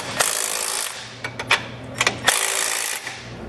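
A 9/16 wrench snugs bolts on Firestone Ride-Rite air helper springs being fitted to a truck, with bursts of bright metallic ratcheting broken by sharp clicks and knocks, loud and close, with no voices.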